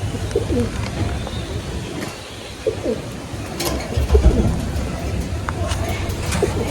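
Pigeons in a home loft coo softly amid a busy background of rustling and bird sounds, with someone talking over them throughout.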